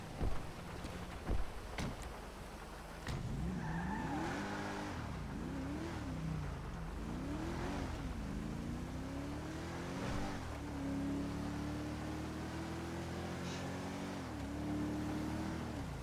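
A car engine in GTA V revs and accelerates after a couple of sharp knocks, the pitch climbing and dropping through gear changes, then holding a steady drone as the vehicle cruises.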